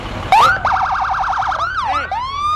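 A parade emergency vehicle siren, with ambulances and fire trucks in the procession, wailing loudly up close, first in a rapid warbling yelp and then in slower rising and falling sweeps.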